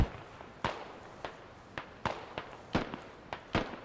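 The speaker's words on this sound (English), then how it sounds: "And there are mortars inbound." Mortar shells in the tactical shooter Squad exploding at a distance, about seven separate dull booms arriving at irregular intervals of roughly half a second, each with a short rumbling tail.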